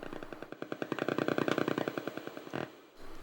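Napalm weapon firing in the shareware artillery game Scorched Earth: a rapid run of crackling, rattling bursts lasting a few seconds and ending in one sharp blast, loud and alone.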